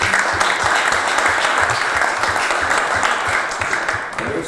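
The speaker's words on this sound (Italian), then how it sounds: "direi già questo merito il primo applauso da parte nostra" A crowd at an awards ceremony breaks into loud, dense applause that holds steady for several seconds before starting to thin out near the end, with a few faint voices mixed into the clapping.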